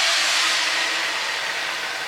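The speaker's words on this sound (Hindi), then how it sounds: "तेल को आप करेंगे गरम, इसमें आप डालेंगे ग्राइंड किया हुआ प्याज" Ground onion dropped into hot oil for a lobia gosht curry, giving a steady, loud broadband sizzle and hiss that holds evenly for about two seconds with no voices.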